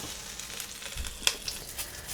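Fluffy pancakes (oladyi) fry in a covered pan, giving a soft steady sizzle with small crackles and one sharp tap or clink midway, fairly quiet and close, no talk.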